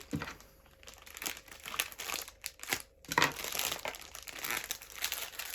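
Thick plastic wrapping from a parcel crinkles and crackles close up as it is pulled and unpacked, in irregular bursts with brief pauses between them.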